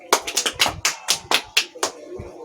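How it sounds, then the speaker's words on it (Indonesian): Sharp hand claps, about ten in an uneven burst, close by, from a small classroom group rather than a large crowd. "Silakan tepuk tangan."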